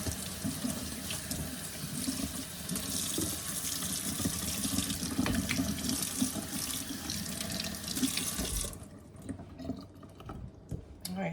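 Running water from a tap soaks the long hair of a reborn doll during a bath: a steady, close splashing and gushing stream that cuts off near the end, leaving quieter drips and trickles.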